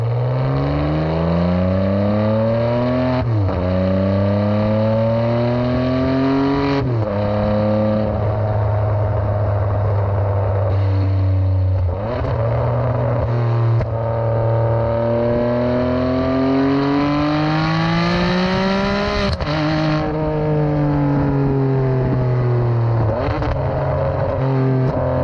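A Ferrari 599 HGTE heard from outside as its engine revs repeatedly, climbing and dropping in pitch with a deep, raspy tone, loud and close with no talking.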